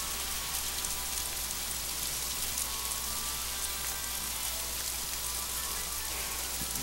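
Steady rain in the Formula One racing video game F1 Race Stars, a dense, even hiss of falling drops on the track that continues unbroken and fairly loud for the whole stretch with no talk over it.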